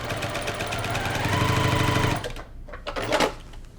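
A sewing machine stitches fabric pieces of a Dresden plate in a rapid, steady mechanical patter for about two seconds, then stops, followed by a few quieter handling clicks.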